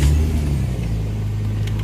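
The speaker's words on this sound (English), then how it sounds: "The car's actually got a really good sound to it." The V6 engine of a 1999 Plymouth Prowler idles and revs close by with a deep, smooth low rumble, steady and loud, with no voices.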